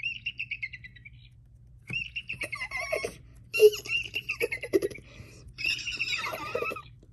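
Bird calls from the Feather Family video game: chirpy, tonal tweets and whistles in several bursts across the clip, with a few louder squawk-like notes in the middle, over a low steady game background hum.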